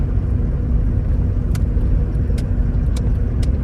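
A cheap Nissan Skyline with loose steering being driven, heard from inside as a steady low engine and road rumble with a few faint clicks over the top.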